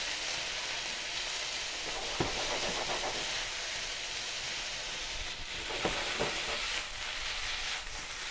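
Onions, peppers and snow peas frying in a pan for chicken curry, a steady loud sizzle and hiss throughout with a few faint clinks of stirring.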